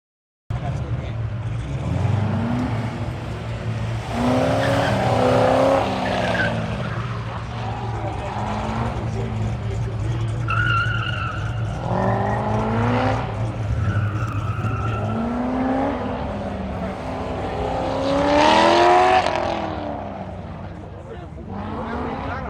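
A 2005 Corvette with new headers driven hard on an autocross course: loud engine revving that rises and falls through repeated shifts, with tire squeal and skidding through the corners, recorded close to the car.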